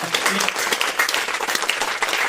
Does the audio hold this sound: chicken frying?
no